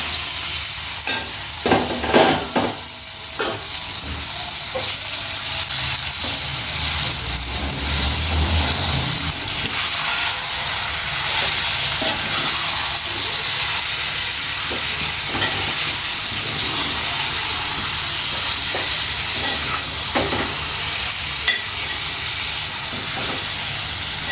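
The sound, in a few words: onions and marinated chicken frying in a pan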